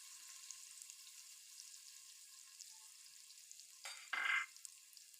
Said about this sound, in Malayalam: ഇനി നമുക്ക് അരിഞ്ഞു വെച്ചിരിക്കുന്ന കൊപ്ര ഇതിലേക്ക് ഇട്ട് കൊടുത്തിട്ട് നന്നായിട്ടൊന്ന് ഇളക്കി കൊടുക്കാം.